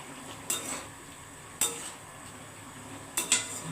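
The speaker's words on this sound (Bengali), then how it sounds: "এবারে আমি ঢাকনাটা তুলে দিচ্ছি" A metal lid lifted off a cooking pot of bitter gourd and potato curry with fish heads, giving three sharp metallic clinks spaced apart, close and clear against quiet kitchen background.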